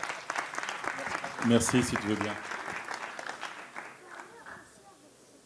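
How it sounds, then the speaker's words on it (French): A conference audience applauds a speaker at a faith and business event, clapping under and around brief talk, loudest early on and fading gradually toward the end. "On l'applaudit, s'il vous plaît"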